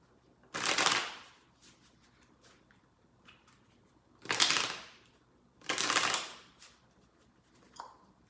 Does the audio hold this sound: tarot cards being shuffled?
yes